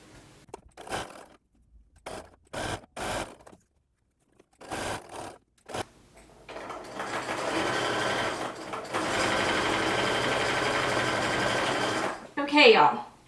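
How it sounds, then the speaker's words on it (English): A sewing machine with a zipper foot stitches pom-pom trim onto a swim cover, starting in short bursts and then running in a long continuous whir, with a person speaking over parts of it. "I just put it in my sewing machine and start sewing"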